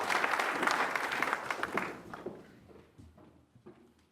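An audience applauds as President Klawe is welcomed at a computing event. The clapping is loud and dense at first, then thins to scattered claps and fades.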